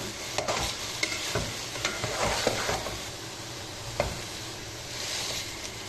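Lentils, red cabbage, carrot and potato are stirred in a pan, a soft continuous sizzle broken by scattered scraping taps of a spoon, close and fairly quiet.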